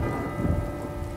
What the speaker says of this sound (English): does it still happen because it's raining?